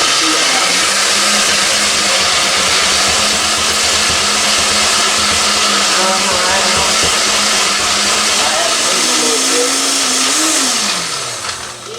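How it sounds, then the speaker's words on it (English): Shrimp is chopped for shrimp burgers with a loud, steady electric motor whir that runs without a break and winds down in pitch near the end. "Now we're gonna chop this shrimp up."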